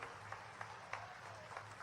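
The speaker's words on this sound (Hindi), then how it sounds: "अपने आप का जोरदार ताली बजा करके" A crowd at a public development-project event in Shahdol, India, claps. It sounds faint and distant, with scattered sharper claps standing out over a low steady hum.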